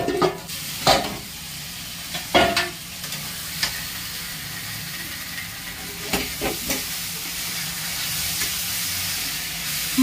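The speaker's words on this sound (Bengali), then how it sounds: "এখন একটু নাড়িয়ে দেবো।" A spoon stirs spice masala as it fries in a pan for a rohu fish curry with potol and potato, a steady sizzling hiss broken by a few sharp scraping clatters early on, close and fairly loud with no talking.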